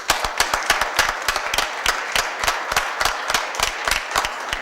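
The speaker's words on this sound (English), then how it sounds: "So let's give them another big round of applause." An audience gives a round of applause, a steady stream of distinct, fairly close hand claps with a softer crowd wash beneath, holding even throughout.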